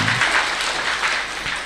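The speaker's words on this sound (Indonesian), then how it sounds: "Tepuk tangan dong" An audience at a religious talk claps together, a brief burst of dense, steady applause at moderate loudness that tapers slightly toward the end.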